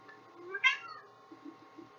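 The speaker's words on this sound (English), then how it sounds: "Of course the cat wants up here right now, because I'm doing something." A house cat lets out a single clear meow near the mic, preceded and followed by faint low rustles and soft thumps in an otherwise quiet room.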